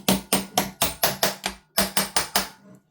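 A hammer taps out a pin on an airsoft gas blowback rifle, a GHM9-SD build, in about eleven sharp, close metallic strikes landing at a steady rhythm in two bursts with a brief pause between, no talking.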